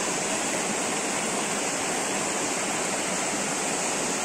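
Steady broadband rush of a river behind Palmarejo, its water carrying discharges, running continuously and close with no voices over it.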